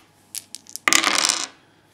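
Dice rolled again during a tabletop miniatures game, a few light clicks followed by a bright clattering tumble across a hard surface that settles within about half a second.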